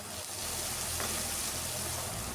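A cup of sliced onions, with green chillies, fries in oil flavoured with dried chillies, producing a continuous, even, close-up sizzle.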